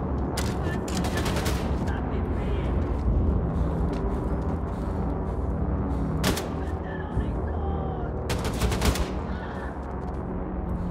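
Gunfire in the shooter game Wolfenstein II: The New Colossus, with several sharp bursts of shots cracking over a steady dense game soundscape, most prominent early on and again near the end.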